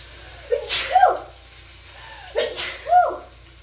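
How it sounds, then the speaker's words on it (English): Two sneezes, each a short breathy build-up followed by a sharp burst, spaced about two seconds apart, close and fairly loud. "Told you that pepper was going to make me sneeze."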